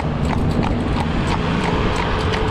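A barefoot cob horse pulling a driving carriage clip-clops steadily along, the hoofbeats loud and close over constant road and wheel noise.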